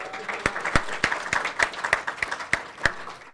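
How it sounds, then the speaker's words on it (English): Sparse applause at a petroleum engineering society monthly technical meeting in Thailand, a small audience clapping for the event sponsor in uneven, separate claps over a low room murmur, fairly quiet and close. "another round of applause from our sponsor for tonight."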